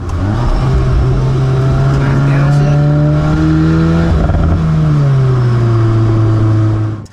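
A VW Golf R MK8 accelerates hard during performance driving, its engine note rising loud and close through the gears with a steady sustained drone, dipping briefly at a shift before climbing again.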